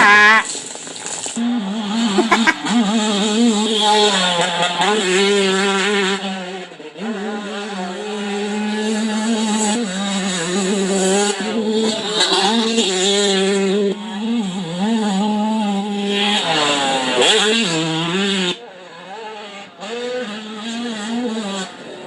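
Killer B 125cc race kit motorcycle engine revving on the pipe, a loud, buzzy two-stroke wail rising and falling repeatedly through several rev sweeps, close and continuous.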